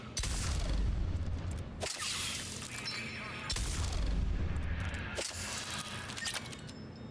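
Pistol fire in Mass Effect 3 cracks out in a few powerful shots with heavy, booming tails, each separated by a brief gap, over a steady game background.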